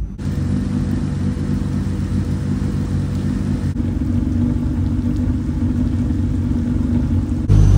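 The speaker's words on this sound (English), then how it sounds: "Man, this car drives so good, bro." Car driving in the rain at a rainy car meet, a steady loud engine rumble with road and rain hiss that continues without a break, close and alone without voices.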